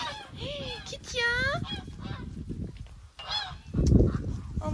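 Geese honk several times in a village setting, loud and close, their harsh calls mixed with ducks and rustling, while someone talks over them.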